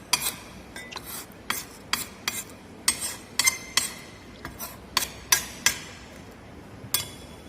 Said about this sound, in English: homogeneously we have to mix this paste together with the help of trowel